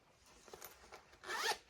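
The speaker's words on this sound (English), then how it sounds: "There's a pocket on the other side that's got a zipper" A zipper runs along the pocket of a fabric craft project bag, quiet short ticking pulls followed by one faster, louder zip near the end, close and alone.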